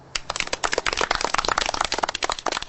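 A small support group for people giving up cosplay applauds together: dense, steady hand-clapping that starts abruptly and keeps up evenly at close range, with no voices over it.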